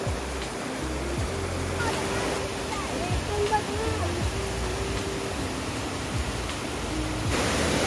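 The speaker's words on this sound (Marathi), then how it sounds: "जसं की पाहू शकता आता हे खळखळणारं पाणी एकदम स्वच्छ आहे।" Clear, fast-flowing stream water swollen by May rain in a Marathi village, a steady broadband rush close by that holds evenly throughout, with faint speech-like murmurs here and there.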